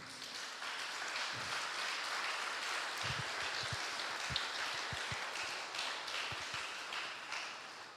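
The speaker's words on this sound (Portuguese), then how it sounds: "Dá um aplauso para saber se gostou." Congregation applauding during a Sunday church service, a steady even wash of clapping lasting throughout, fairly distant and diffuse with scattered sharper claps standing out.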